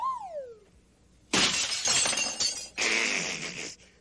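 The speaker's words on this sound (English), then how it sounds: "Hear that glass crash?" A drinking glass thrown over a brick wall shatters with a loud crash, then a second burst of breaking glass follows; a high sliding whistle tone comes just before the first impact.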